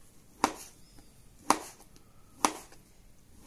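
Beetroot being diced with a knife on a cutting board, four sharp, evenly spaced chops about one second apart, close and distinct over a quiet background.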